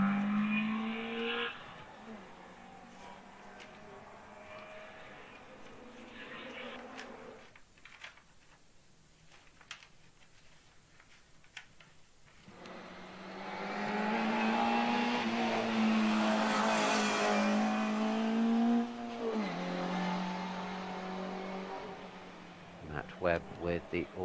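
GTM Coupe race car pulling smoothly away from the start line at the Wiscombe Park hillclimb, its engine note rising and swelling loud mid-clip before fading, with a commentator talking over much of it.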